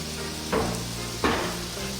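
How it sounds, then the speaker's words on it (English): Tomatoes sizzle and fry in a pan with a constant crackle, broken by two distinct stirring scrapes about three-quarters of a second apart. "let it soften the tomatoes slightly. You need to be stirring quite often here"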